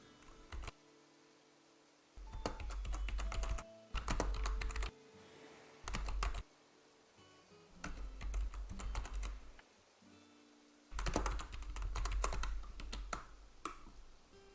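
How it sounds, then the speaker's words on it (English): Bursts of typing on a computer keyboard, close and crisp, with slow uneven keystrokes broken by short pauses of silence; no one talks. "I'm kind of a slow typer though, so you're going to have to be patient with me."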